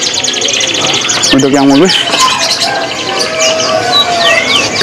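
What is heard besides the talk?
black-naped oriole (kepudang) calling at a bird market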